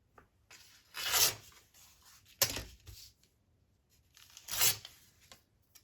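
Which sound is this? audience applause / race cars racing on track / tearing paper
tearing paper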